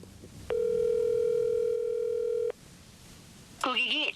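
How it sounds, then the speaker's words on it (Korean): A phone call to a company president, with one steady telephone tone sounding for about two seconds before falling silent. A recorded voice then starts near the end. "우리는 사장과 직접 통화를 시도했습니다."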